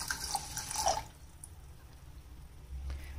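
Water poured from a cup onto raw basmati rice in a pressure cooker pot gives a brief splashing gush lasting about a second, followed by a quiet room hum.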